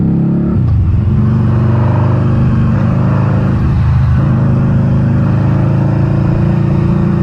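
A 2012 Harley-Davidson V-Rod Muscle 10th Anniversary, a liquid-cooled 125 hp motorcycle, drones steadily while being ridden, a loud, close, continuous engine hum with a couple of brief swells in revs and no talking over it.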